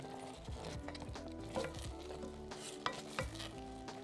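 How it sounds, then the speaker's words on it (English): Strawberry compote with cornflour bubbles softly in a pan over medium heat while a spoon stirs and scrapes, faint and steady with a few light knocks. "Then turn the heat on to medium and bring it to a gentle simmer while stirring."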